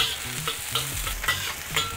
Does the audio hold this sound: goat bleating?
no